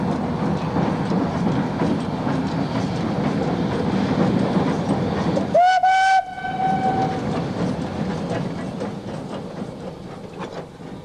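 A Queensland Garratt steam locomotive, number 1009, rolls along rails with a steady rumbling clatter, then gives one clear whistle blast of about a second before the running noise continues.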